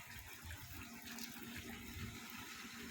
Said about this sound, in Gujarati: સરસ મજાનું પાણી આપે છે મોટર.